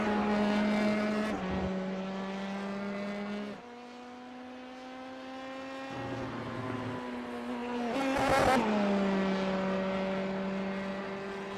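Race car engine in iRacing at Laguna Seca, driven hard through the corkscrew as the rear steps out, its strong harmonic note rising and falling with gear changes and revs, loud and close with tyre noise and no talk.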